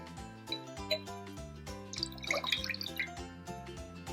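Water poured into a pot for boiling jowar flour roti dough, a short splashing, trickling burst in the middle, heard under steady piano-like background music.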